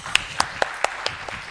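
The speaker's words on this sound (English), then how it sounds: "with a wide round of applause" Handful of sharp, separate hand claps from an audience welcoming a government minister at a formal event, spaced irregularly and fairly quiet over a low background hum.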